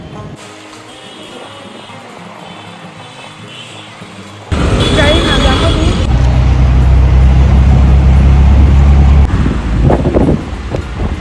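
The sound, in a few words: auto rickshaw and street traffic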